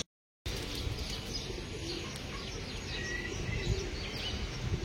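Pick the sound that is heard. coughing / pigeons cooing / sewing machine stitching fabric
pigeons cooing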